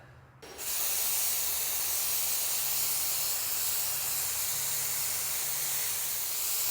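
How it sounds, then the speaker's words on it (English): An Earlex 6700 paint sprayer sprays through, its steady broadband hiss starting abruptly after a brief quiet moment and continuing loud and unbroken to the end. "I can pop this back on and we'll spray it through again"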